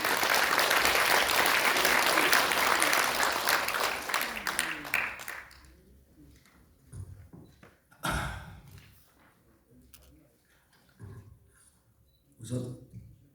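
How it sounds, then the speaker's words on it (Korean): An audience at a political party launch event gives a loud round of applause to welcome a speaker, clapping dense for about five seconds before dying away, followed by scattered thumps and a voice speaking. "여러분들 큰 박수로 맞이해 주십시오."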